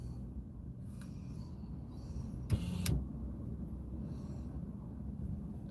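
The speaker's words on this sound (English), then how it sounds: "So I'm sitting here in my truck, adjusting the windows," Power windows in a truck whir quietly and briefly under a low, constant cabin rumble, with a couple of faint clicks and one short mechanical burst in the middle.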